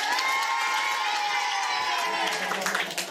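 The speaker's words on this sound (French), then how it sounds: "On l'applaudit, s'il vous plaît." An audience at a French debating championship applauds and cheers a young champion, a loud mix of clapping, whoops and excited shouts that swells and then begins to break up.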